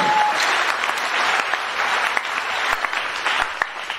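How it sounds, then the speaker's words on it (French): A church congregation claps enthusiastically and keeps applauding, with a dense wash of hand claps and scattered sharper individual claps throughout, fairly close and loud, with faint voices mixed underneath. "Acclamons très fort le Seigneur."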